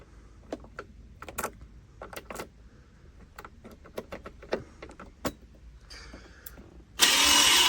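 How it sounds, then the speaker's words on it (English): A crashed, abandoned BT49QT-7 scooter is worked on with a series of scattered mechanical clicks and knocks before its engine is kick-started and bursts into a loud, close, buzzing idle. "the e-starter and stuff doesn't work, but you can probably kick it on"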